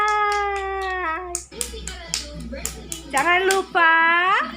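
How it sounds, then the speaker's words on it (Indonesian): Hand claps ring out sharp and close in a children's dance tutorial, a quick run of single claps between stretches of a child's sung and spoken voice. "Tepuk tangan"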